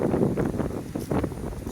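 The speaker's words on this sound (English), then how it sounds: "it's super windy right now" Strong hurricane wind buffets the microphone outdoors beside a fast river current near a restaurant, a continuous loud rumbling roar with gusty surges throughout.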